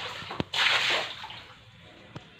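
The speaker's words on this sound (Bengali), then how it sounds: "আর এবার আমি বালতির সমস্ত জলটা ঘরের ভিতরে ঢেলে দিচ্ছি।" A bucket of water is tipped out onto a room floor during house cleaning, giving a short gushing splash that fades into a light trickle, preceded and followed by faint knocks and drips.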